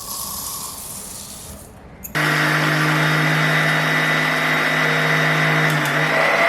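A kitchen mixer grinds sugar into powdered sugar for besan ladoos. It starts abruptly with a loud, steady, high-pitched whirring roar after a quieter stretch of background hiss.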